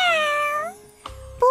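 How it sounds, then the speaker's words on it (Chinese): A cartoon white cat lets out a drawn-out, bending meow followed by a second, shorter mew starting just before the end, clear and close with no other voices. "原本胖嘟嘟的高卢基居然变成了一只穿着蓬蓬裙的白色猫咪"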